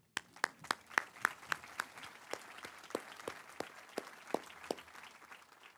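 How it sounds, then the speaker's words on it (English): An audience at a law school commencement ceremony applauds the faculty and platform party, a scattered burst of hand claps, sharp and fairly close at first, then thinning and softening as it tapers off. "please stand and we will applaud you again"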